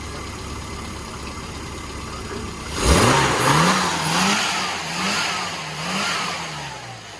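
A classic car engine on a CMC Riviera Run, being tuned at the roadside, roars up in a sudden rev, then falls and surges a few more times in slower waves before settling back toward a steady idle.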